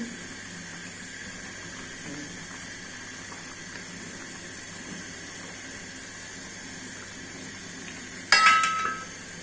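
Tengra fish and potato fry in a pan while being stirred, giving a steady soft sizzle and hiss throughout, with a brief louder burst of clattering sizzle near the end.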